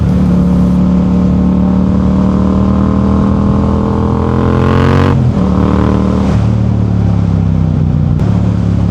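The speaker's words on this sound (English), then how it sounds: "This Akrapovic exhaust is so much fun to ride with." A 2022 Yamaha MT-07 motorcycle with an Akrapovic exhaust roars loudly, pitch climbing as it revs up, then drops off abruptly with a crackle before settling back into a rising growl.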